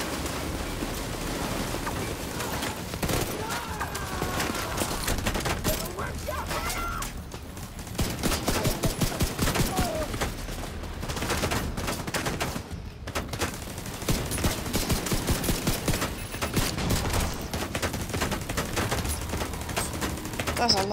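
Dense, sustained gunfire from a firefight in the video game The Division 2: loud overlapping bursts and rapid shots fill the full stretch without a break, with only a brief dip partway through.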